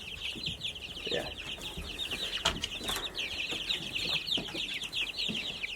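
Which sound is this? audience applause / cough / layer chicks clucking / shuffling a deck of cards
layer chicks clucking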